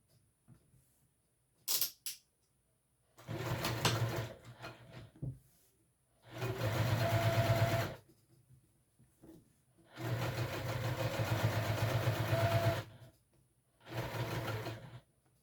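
A sewing machine top stitches a wristlet in several runs of steady whirring, each lasting a few seconds and separated by pauses. A couple of short handling clicks come near the start, and the sound is close and clear with no talk.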